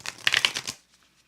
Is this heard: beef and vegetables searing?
no